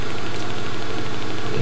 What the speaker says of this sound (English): Car engine, I suppose that is